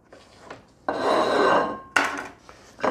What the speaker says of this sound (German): Hier ist noch ein Knoblauchzehe, die schneide ich auch noch mal ganz fein hier rein